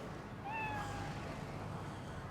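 A single cat gives one short, rising meow indoors, faint against a low steady background hum, followed by quiet.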